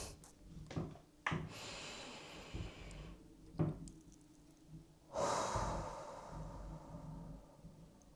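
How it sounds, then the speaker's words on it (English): A person draws a slow, deep breath, with a few soft breathy bursts and a longer audible inhale and exhale up close in a quiet room. "Let's take a deep breath."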